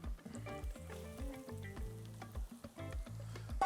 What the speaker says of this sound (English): All right, broccoli going in.